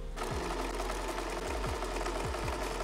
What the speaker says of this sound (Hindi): हम यहाँ पर सिलाई रख के इसको पलट देंगे।